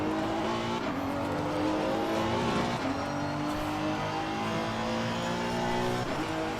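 Race car engine in Assetto Corsa Competizione, a steady loud drone with shifting harmonics as the car brakes and downshifts to first gear, tires faintly scrubbing, no talk.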